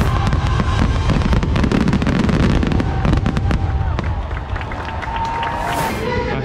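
Fireworks at Magic Kingdom burst in rapid, loud crackling pops and booms over a constant crowd rumble, with voices murmuring throughout.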